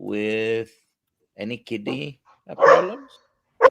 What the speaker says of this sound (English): Sorry about my dog. Keeps barking.